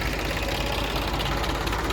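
Tractor engine idling nearby, a steady low rumble with a faint knocking pulse running evenly through the short stretch.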